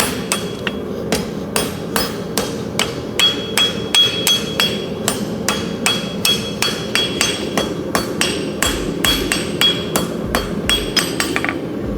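A farrier's hammer strikes a horseshoe heel on an anvil in a steady run of about thirty sharp, ringing metallic blows, close and loud, with brief pauses and no talk.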